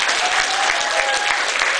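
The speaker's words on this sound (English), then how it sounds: "give a round of applause" Audience at an Auto Assembly convention panel applauding steadily, dense continuous clapping from a sizable crowd throughout, loud and close.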